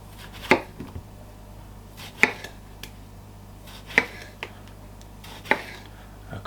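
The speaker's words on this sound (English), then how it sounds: "I'm going to slice these." Knife slicing through tomatoes on a cutting board, four crisp chops spaced evenly about every second and a half, close by, with faint soft rustles between them and no talk.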